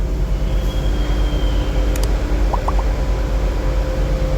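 A steady, deep rumble of an airport shuttle train departing Adi Soemarmo Airport, with brief high squeals and faint metallic chimes rising over the continuous drone.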